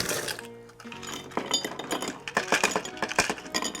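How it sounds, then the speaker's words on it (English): Ice cubes, one big cube and several smaller ones, dropped into a rock glass, giving a scatter of sharp clinks and rattling taps that come in quick irregular bursts, close and fairly loud. "We're going to drop in 1 big ice cube and a little bit of smaller ones."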